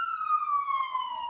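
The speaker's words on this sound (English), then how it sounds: "Let me let this ambulance pass by." An ambulance siren wails steadily, its pitch gliding slowly downward as the ambulance passes, loud and clear with no talking over it.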